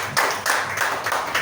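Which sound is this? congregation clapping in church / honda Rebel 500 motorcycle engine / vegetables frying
congregation clapping in church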